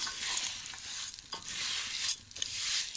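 Bulgur and vermicelli toasting in a pan for bulgur pilaf: a soft, continuous sizzle broken by scraping stirs that swell and fade in waves, fairly quiet and close, with no talking.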